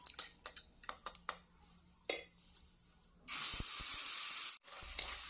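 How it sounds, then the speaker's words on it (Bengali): Spice paste with Kashmiri chilli powder and ground cumin is added to a hot pan of cumin-seed tempering for a rohu fish and potato curry. After soft clicks and taps, a loud, steady sizzle erupts, briefly dips, then resumes. "এখন কড়াইয়ে জিরে সম্বার দিয়ে করে রাখা মশলাটা এর মধ্যে দিয়ে দেব"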